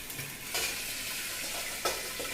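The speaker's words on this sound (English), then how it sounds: "This is boiling very beautifully" Continuous bubbling hiss of liquid boiling hard in a pot, close up, with a couple of brief louder pops and no voices.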